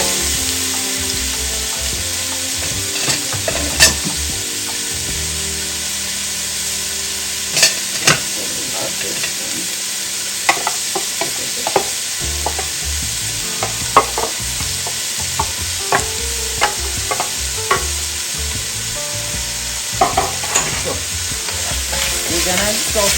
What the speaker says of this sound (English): We're gonna saute all our veggies until everything is translucent